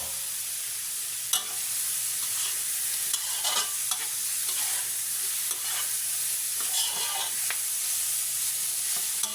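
Black pepper beef sizzling and frying in a pan with garlic, onion and ginger, a steady bright crackle with occasional stirring scrapes, close and continuous with no talk.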